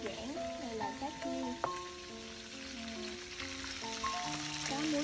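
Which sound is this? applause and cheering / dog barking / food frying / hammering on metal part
food frying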